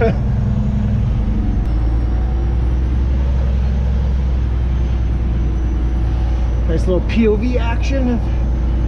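A heavy diesel truck idles and is maneuvered into a parking spot, its loud, constant low engine rumble continuous throughout, with someone speaking briefly near the end.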